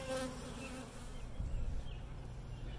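Steady buzzing of many wild bees close by at a hive in a tree, a dense droning hum that continues throughout with no voices.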